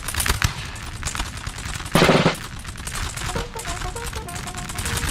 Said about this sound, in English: firefight there erupting between some of their troops, some of the Spanish troops, and my troops